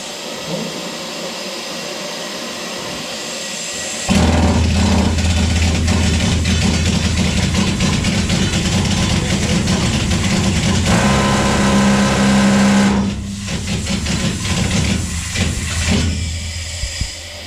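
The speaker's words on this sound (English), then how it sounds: "This is a wet drill. And I'm gonna run this one for you." A wet rock drill roars to life inside the Molly Kathleen gold mine after a few quiet seconds, a loud, steady mechanical clatter that runs for about nine seconds, then stutters and winds down.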